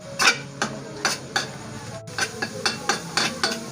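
A mint egg and onion mixture being lightly roasted in a pan over medium heat, with a steady run of soft, rhythmic spatula scrapes and taps over a faint sizzle.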